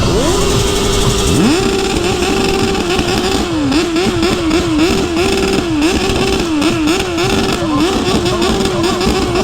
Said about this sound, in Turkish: Bir gaz sesi duyalım, gaz sesi duyalım hep beraber, gaz sesi duyalım.